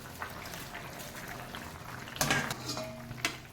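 A metal lid clatters off a pot of curry, then singi fish are tipped into the simmering liquid with a sudden clanking splash, followed by a few softer knocks and bubbling.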